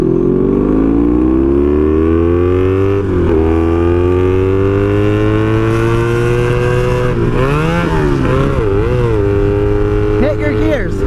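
A motorcycle rides along PA Route 443 with a loud, close engine drone. The revs climb and dip through gear changes, and wind noise runs underneath.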